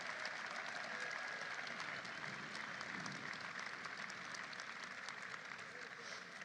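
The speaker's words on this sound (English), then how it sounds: "Let's have a round of applause for our great caucus." An audience applauds Senate Democrats at a White House celebration of the Inflation Reduction Act, a sustained broad wash of clapping from a large crowd, even and continuous throughout.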